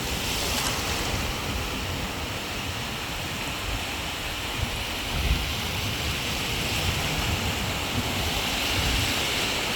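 Sea waves wash onto the shore at high tide, a continuous loud surf roar with wind buffeting the microphone and no voices.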